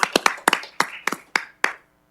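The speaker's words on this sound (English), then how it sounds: "So I want to give you a hand of applause tonight." Sparse, hesitant clapping from a few people in a city council meeting audience, about eight separate claps over two seconds, close and fairly loud, fading to quiet.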